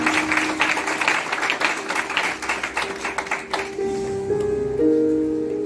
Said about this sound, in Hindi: एक बार फिर उसके जलाल के लिए जोरदार ताली।